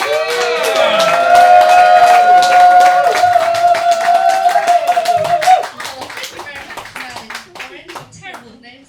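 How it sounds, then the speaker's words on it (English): An audience at a comedy show claps for a comedian, bright and sustained clapping over a fading musical chord, with the hands becoming sparser and more distinct as the applause tapers off toward the end. "please, huge round of applause for Lauren Moore!"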